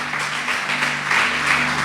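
Congregation applauding inside a church during a sermon, a steady dense wash of clapping with a faint low hum beneath, continuous and fairly loud for the whole stretch.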